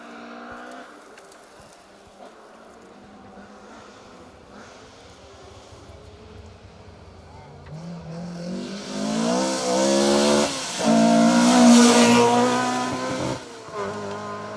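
A historic rally car races past on a Yorkshire asphalt stage during the Trackrod Rally, its engine note building from a distant growl to a loud, revving roar as it nears, then easing away as it passes.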